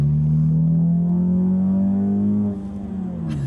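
A 2015 Ford Mustang EcoBoost pulls hard under acceleration, its engine note climbing steadily as the revs build and loud up close, then a brief hiss from the blow-off valve near the end as the throttle lifts.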